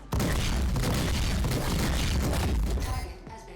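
Heavy ship cannon fire in the video game Star Citizen booms in a rapid, continuous barrage, loud and close, before tapering off at the end.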